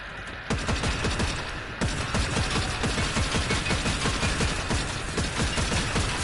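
Rapid automatic gunfire from a Fortnite match, dense bursts of shots rattling continuously for several seconds, loud and close with no talk over it.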